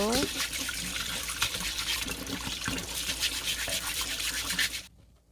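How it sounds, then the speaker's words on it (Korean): Cinnamon sticks scrubbed with a brush under running tap water, a continuous loud hiss of flowing water with rhythmic bristle scrubbing, stopping abruptly near the end. "계피 60g을 솔로 깨끗이 씻고 반쪽에서 안쪽 부분도 깨끗이 씻어주고"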